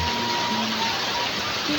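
Rain falls on rice paddies near a remote village, a constant close wash of hissing water that runs evenly from start to finish without pauses.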